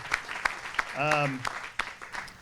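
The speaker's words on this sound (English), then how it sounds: "I think you should all give yourselves a round of applause" Scattered hand claps ring out from a small crowd at an apartment building grand opening, sparse and uneven, with a brief vocal cheer partway through.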